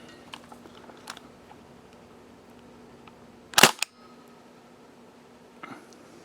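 An Elite Force IWI Mini Uzi CO2 airsoft gun, loaded with 0.2 gram BBs and a fresh CO2 cartridge, fires one sharp, loud pop or very short burst into a chronograph midway through, surrounded by quiet with a few faint handling clicks.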